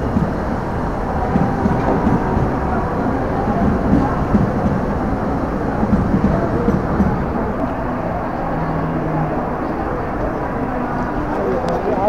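A train pulls into a busy railway station platform, with a dense, continuous low rumble under a crowd's steady murmur and no distinct pauses.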